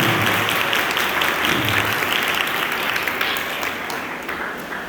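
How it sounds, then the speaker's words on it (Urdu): A church congregation applauding loudly and steadily at a Palm Sunday service, dense clapping from many hands that fades slightly toward the end. "یسوع کے لیے زوردار تالیاں، زوردار تالیاں"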